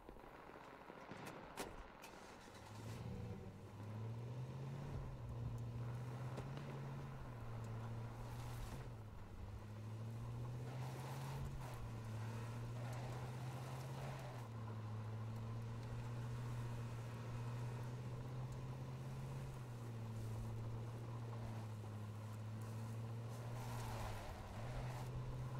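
A vehicle in the battle royale video game H1Z1 drives with a steady engine drone that rises and falls slightly in pitch, alone and fairly quiet, with no talking.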